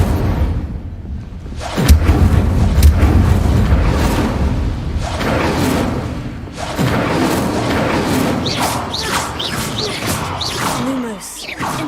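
The Incendio fire spell in Hogwarts Legacy bursts out with booming whooshes, loud and close, in repeated casts over dense game effects and background music.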